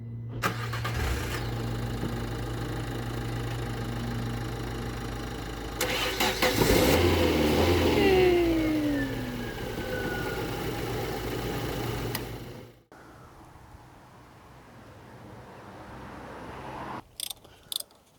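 Fiat Panda 100HP engine cranking and catching after a jump start, followed by a loud rev and settling idle, close by; the engine then cuts, leaving quiet with a few knocks at the end.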